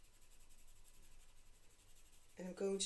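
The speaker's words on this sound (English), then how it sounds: "inwards with the pencil, not outwards. This is a pastel pencil, so it's very, very soft." A very soft pastel pencil scratches faintly and steadily across paper while outlining a drawing, a quiet continuous rub that ends with a louder burst of sound in the last half second.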